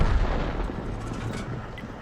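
A Conqueror Gun Carriage tank destroyer in a tank video game fires a round, a single heavy close boom whose rumbling tail decays over a couple of seconds.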